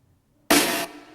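One loud snare drum hit without the Decapitator distortion, a sharp, bright crack that holds briefly and then fades into a quieter tail.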